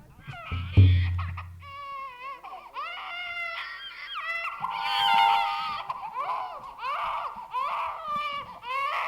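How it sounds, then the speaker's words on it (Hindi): A baby's wailing cry used as a jungle sound effect in a Hindi audio drama, rising and falling sobs repeated over several seconds after a low thump, fairly close and alone without speech. "जंगल में किसी बच्चे की रोने की आवाज आ रही है"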